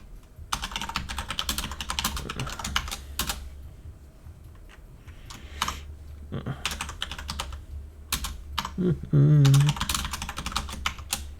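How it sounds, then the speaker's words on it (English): Computer keyboard typing in steady bursts of clicky keystrokes, fairly close, with pauses between runs and a low background hum throughout. "You all have no idea what I'm typing, and that's fine."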